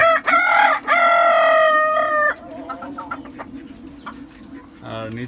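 A tiger chicken rooster crows loudly and close, two strained, drawn-out calls in quick succession, then quieter clucking and bird sounds from the rooftop flock follow.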